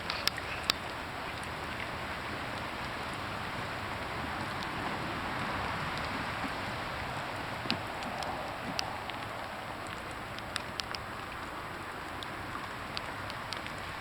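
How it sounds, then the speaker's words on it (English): Steady rain patters on water and a kayak during a paddling outing, a soft continuous hiss with occasional sharper drop taps close by, no talking. "It's raining, it's pouring."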